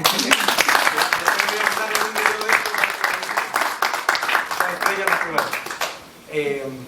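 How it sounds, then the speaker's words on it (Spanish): An audience at a book presentation applauds with a dense, sustained clatter of hands that fades toward the end before a voice speaks briefly. "un aplauso para Tomacho"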